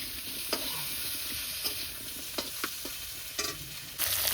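Onions and potatoes frying in mustard oil in a home kitchen, a soft steady sizzle broken by several sharp scraping stirs of a spatula against the pan, close and without talk.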